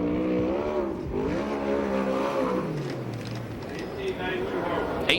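A USAC/CRA sprint car laps the Perris dirt oval, its engine roaring loudly and shifting pitch as it passes, while an announcer talks over the racing.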